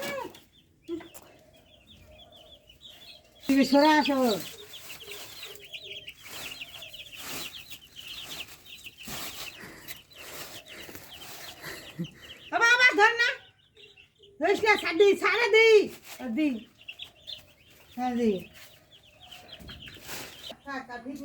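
Chickens clucking and squawking in bursts close by, with a child and an adult talking over and between the calls.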